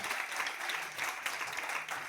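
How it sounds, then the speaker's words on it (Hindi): Faint audience applause fills a hall in a steady wash of clapping, heard for a couple of seconds. "जबरदस्त तालियां आप सभी लोगों के लिए होनी चाहिए।"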